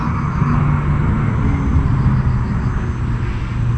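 A fixed-wing airplane passes over a campsite near busy roads, a steady loud low rumble of engine drone with no break, blending with distant traffic noise.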